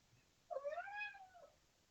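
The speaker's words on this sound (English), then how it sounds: "The ideaSPACE kitty joining us, helping out." A cat gives a single clear, drawn-out meow, rising then falling, close and fairly soft against a quiet indoor background.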